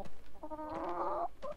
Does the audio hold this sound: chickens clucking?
yes